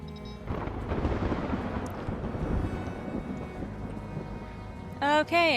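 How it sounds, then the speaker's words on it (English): A thunderstorm in the video game Stranded: Alien Dawn rumbles with low, rolling thunder and broad noise that swells and eases. A bright electronic game tone sounds near the end. "Okay, and we have a thunderstorm."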